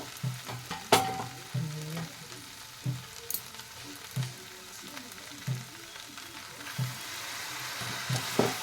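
Pui leaf chachodi being stirred in a pan, with repeated soft scraping strokes at an uneven rhythm over a low, steady sizzle, close and moderately loud, with no talking.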